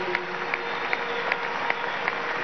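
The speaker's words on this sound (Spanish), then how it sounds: "un aplauso a Jorge Rodríguez por la labor que cumple diariamente" A crowd at a political congress in Venezuela applauds a speaker with steady, dense clapping that continues throughout, with occasional sharper individual claps.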